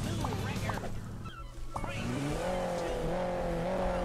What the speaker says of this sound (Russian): Сзади меня ехал этот экскаватор?